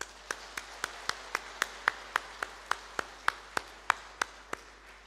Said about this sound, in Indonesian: Kenapa kita tidak tepuk tangan dulu untuk mereka?